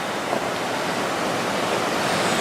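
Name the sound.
water flowing at a water wheel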